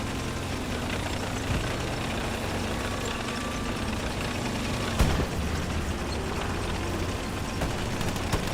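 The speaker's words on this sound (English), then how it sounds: "Panzer IV coming over here to the rears of Town Center." A Panzer IV tank engine idles and rumbles in the Hell Let Loose video game near Carentan town center, a steady low mechanical drone with one brief thump partway through.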